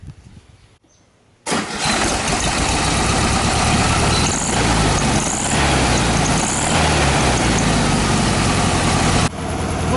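A 1973 VW Beetle (Fusca) engine starts up after a brief quiet moment and runs steadily and loudly close by, with slight revving as the car prepares to set off.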